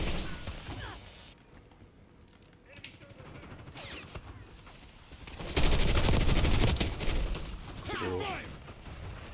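Bursts of automatic gunfire from the Call of Duty video game rattle out, with a loud sustained volley in the middle and scattered shots before and after, mixed under a faint game soundtrack.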